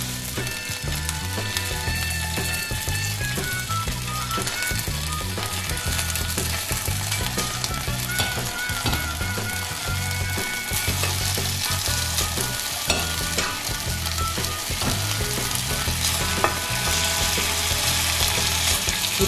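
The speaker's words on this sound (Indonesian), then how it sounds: "Dipanggang sampai dia kering ya" Chicken grills in a pan for ayam bakar, a dense, continuous sizzle heard up close for the whole stretch, with faint rhythmic clicking in the background.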